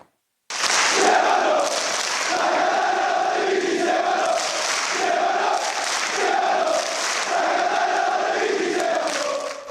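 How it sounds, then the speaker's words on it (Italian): Football fans at the Massimino stadium chant in rhythmic, repeating phrases during an open training session, a large crowd voice rising and falling in waves with applause mixed in, loud and close after a short quiet start. "Cori, applausi, braccia levate al cielo con la squadra a ricevere il calore della sua gente."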